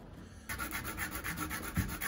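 Hinoki wood pen being shaped with 80-grit sandpaper: after a quiet moment, steady close rasping strokes of abrasive rubbing on wood continue at an even back-and-forth rhythm.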